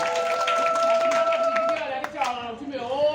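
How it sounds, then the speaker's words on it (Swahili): An audience at a church members' celebration claps together, a dense burst of handclaps heard under a loud voice speaking and singing over a microphone. "Wapigeni makofi sana jamani."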